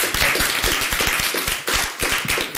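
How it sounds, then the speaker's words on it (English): Council meeting audience clapping in a public chamber, a dense steady patter of hand claps with some sharper individual taps, fairly close and continuous without talk. "feel like we should applaud"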